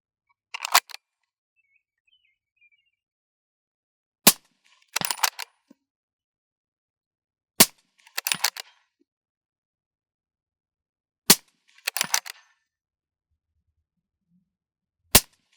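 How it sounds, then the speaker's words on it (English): Five rifle shots fired at a 6-inch steel plate 200 yards away, each a sharp crack followed about a second later by a fainter metallic ring from the distant target, spaced several seconds apart in otherwise quiet surroundings. "So there's 5 shots just like that on a 6-inch target at 200 yards."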